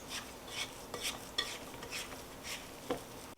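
Cookie dough is stirred in a bowl, giving soft rhythmic scraping strokes roughly every half second, close and fairly quiet with no talking.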